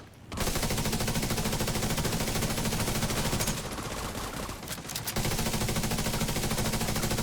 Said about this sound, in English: I heard the shooting.